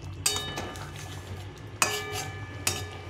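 Metal utensil scraping and clinking against a pan while stirring a curry of duck eggs and taro, three sharp knocks spaced over a few seconds with a faint background hum.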